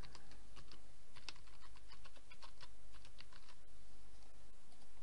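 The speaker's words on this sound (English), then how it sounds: "so I just type that in now" Steady typing on a computer keyboard while entering a plugin name into a WordPress search box, quick irregular key clicks close by with no talk.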